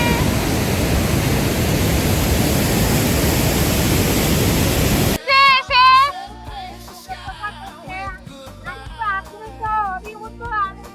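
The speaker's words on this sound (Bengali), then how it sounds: "this is an awesome waterfall and I like this place" Lodh Falls, a tall waterfall in Jharkhand, roars as a loud, continuous rush of falling water for about five seconds before it cuts off, followed by people talking.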